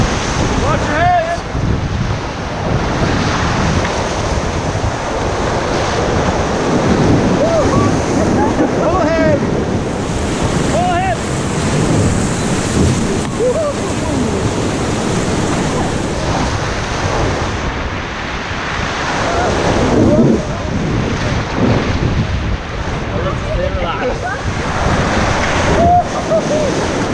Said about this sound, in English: about to hit the Whitewater Rapids with our friends here